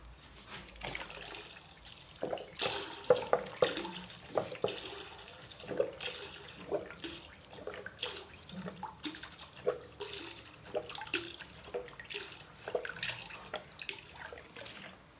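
Water is poured into semolina dough while preparing Constantine-style makrout, a steady close splashing trickle with irregular bursts and drips that continues throughout with no voices.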